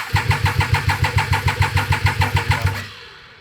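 A Triumph 955cc engine fitted to a go kart cranks with a rapid, even chugging rhythm for nearly three seconds, loud and close, then cuts off without catching.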